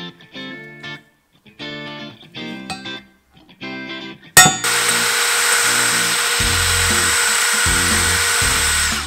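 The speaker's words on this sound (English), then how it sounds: "with the use of a die grinder, you need to make a big groove in there" A die grinder cuts grooves into a cracked turbo manifold, first in short whining bursts with pauses, then in one loud continuous harsh grinding run that lasts to the end.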